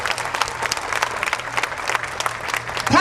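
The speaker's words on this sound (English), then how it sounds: "I want you all to give a warm applause for the Reverend Della McCall Fisher." A crowd at a vigil outside Paterson, New Jersey City Hall breaks into steady applause, dense clapping that carries on throughout, with a sudden louder swell right at the end.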